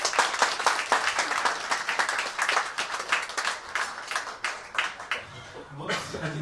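A concert audience applauds at a birthday show, busy overlapping clapping that thins out before a voice begins speaking near the end.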